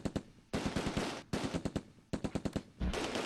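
Machine gun fire in the WWII strategy game Close Combat II, several rapid bursts of rattling shots separated by short gaps, loud and close with no talking.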